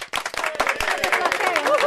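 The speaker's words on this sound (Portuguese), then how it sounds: "Uma salva de palmas." A live audience gives a brief, lively round of applause, quick dense hand claps with voices cheering underneath.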